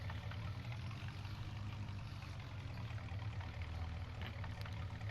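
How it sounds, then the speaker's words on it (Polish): A tractor engine idles in Farming Simulator 19, a low, steady diesel rumble with an even throb that stays constant and quiet throughout, heard alone. "Dobra, nie gaszę silnika, bo po co?"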